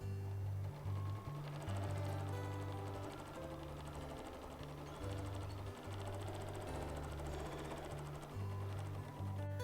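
A sewing machine stitching during free motion quilting, its motor humming in steady runs that shift speed and pause briefly, fairly quiet and close, with no voices.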